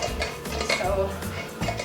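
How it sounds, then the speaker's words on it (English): A lid clinks and scrapes onto the top of a hot jar of freshly made Instant Pot bone broth, a few light glassy and metallic knocks close by. "Just gonna put the lid on top, not screw it all the way."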